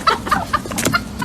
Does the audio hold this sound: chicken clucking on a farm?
yes